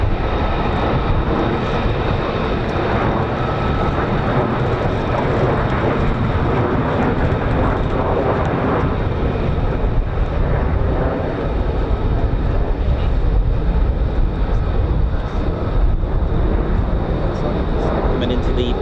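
A military fighter jet, an F-15 or F-35 of the 48th Fighter Wing, flies its approach to RAF Lakenheath, giving a loud continuous broadband engine roar throughout under a speaking voice.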